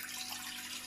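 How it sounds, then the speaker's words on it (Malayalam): A glass of water poured into an old vessel makes a steady, close splashing rush, brief and fairly quiet, with no voices. "ഒരു ഗ്ലാസ് വെള്ളം ഒഴിച്ചെടുക്കാം."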